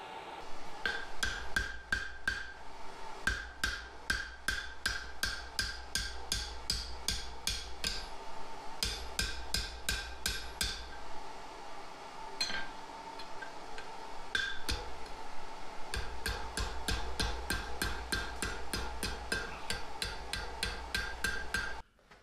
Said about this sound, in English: hitting on the shank to pull that up